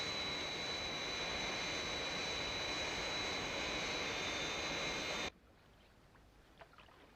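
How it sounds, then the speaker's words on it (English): A Fireflash aircraft taking off in a Thunderbirds episode, a loud continuous jet engine roar that cuts off abruptly after about five seconds, leaving a quiet background. "Scott has made a good takeoff"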